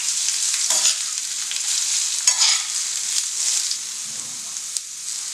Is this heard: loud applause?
no